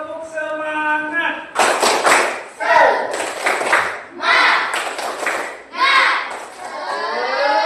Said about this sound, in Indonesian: Tepuk semangatnya bagaimana? Tepuk semangat.